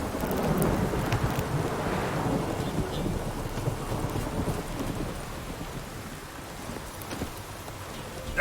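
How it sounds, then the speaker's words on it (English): Steady heavy rain pours throughout in The Witcher 3: Wild Hunt, with low rumbling thunder rolling underneath and a sharp crack near the end. "This downpour's a bastard,"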